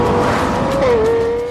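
A Lexus 4.8-litre engine revs sharply toward 9,000 RPM, a loud, close, smooth tone that rises briefly and then holds for under two seconds.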